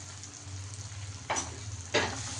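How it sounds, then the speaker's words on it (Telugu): Spices and ground coriander and cumin powder sizzle softly in oil for egg masala curry, a low steady fry with a low hum beneath, broken by two brief louder scraping stirs. "ఇవన్నీ మంచిగా వేయించుకొని ఆయిల్ పైకి తేలే వరకు బాగా వేయించుకోవాలండి"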